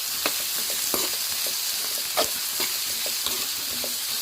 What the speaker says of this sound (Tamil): வெங்காயம் சேர்த்துக்கிட்டோம். வெங்காயம் இப்போது நல்லா வதக்கிக்கலாம்